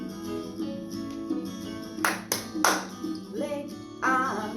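Several sharp hand claps, in pairs and singles, land amid a sung children's body-parts song at an online playgroup, with a voice singing throughout.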